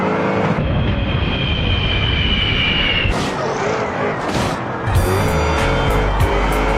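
Cars in the BeamNG.drive video game, here a Cadillac, race toward and slam into Ram plow trucks: loud continuous engine roar with tire squeal, then several sharp crash and impact bursts in the second half.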